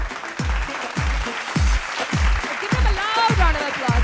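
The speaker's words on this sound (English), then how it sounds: "A loud round of applause for our 7 contestants from Manappuram Gold Loan Miss Asia" Applause and crowd noise greet contestants at the Miss Asia beauty pageant, a sustained clapping wash under a strong, regular thumping music beat, with voices and cheering mixed in.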